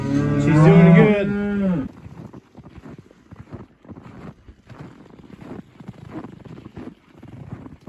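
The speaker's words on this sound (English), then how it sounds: "I'm just walking out here to check on the cows and check on the calves" A cow on a farm lets out one loud, close moo, followed by wind buffeting and faint rustling on a cold outdoor morning.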